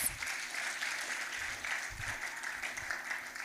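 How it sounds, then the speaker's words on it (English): A crowd at a university student film festival applauds, a sustained, even roar of many people clapping at some distance, steady throughout with occasional low thumps underneath. "Come on, guys, we can do better."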